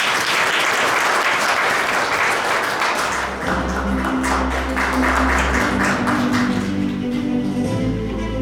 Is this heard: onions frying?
no